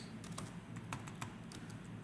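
Computer keyboard typing, a run of quick irregular key clicks close by over a low steady background hum, with no voices.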